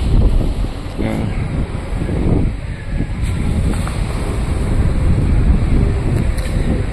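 Strong northeast monsoon (amihan) wind buffets the microphone in a constant roar, with surf-like rushing underneath.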